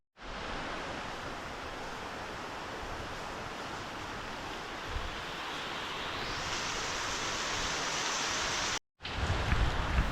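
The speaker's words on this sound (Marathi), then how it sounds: "सात आठ दिवसाने पाऊस कोकणात चालू झाला आहे बघा" Steady monsoon rain in the Konkan region falls in a continuous soft hiss, unbroken and even throughout, with no voices, briefly dropping out near the end before resuming.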